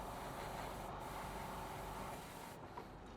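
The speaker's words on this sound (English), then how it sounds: "spray it with light misty coats" Spray paint hisses in a continuous light misty coat onto a 1/48 scale Revell Junkers Ju 88 A-4 model, a steady close airy rush that thins slightly near the end.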